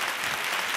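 A studio audience on an Italian television show applauds in tribute to a singer, a brief, dense burst of clapping with no voices over it.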